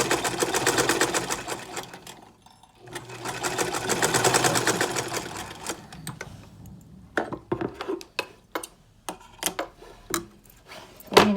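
A domestic sewing machine runs in bursts, stitching the shoulder seam of a polo uniform, with a steady rapid needle chatter that pauses and restarts, followed by scattered clicks and fabric handling noises.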